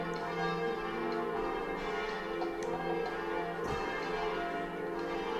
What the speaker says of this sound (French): J'aurais dû fermer la fenêtre pour le bruit des cloches